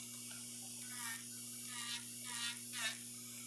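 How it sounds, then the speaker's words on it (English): An electric nail file buzzing steadily as it smooths acrylic nails, with a constant motor whine that swells in short passes as it works over the nail surface. "I'm going to go back through and do my filing"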